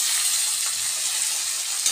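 Taro leaves with chickpeas stirred in a frying pan, a dense continuous sizzle and hiss at close range, loud and steady, with no voice over it.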